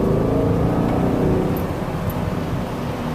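A manual-transmission car accelerating hard in first gear, its engine droning loud and steady with a rising, rough rumble throughout, heard from inside the cabin with no talk.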